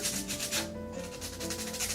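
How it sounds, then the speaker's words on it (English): Rhythmic back-and-forth scratching of sandpaper on the top of a wooden guitar bridge, close up, in steady strokes with a brief pause midway. "Just need to sand the top a little bit to get it started."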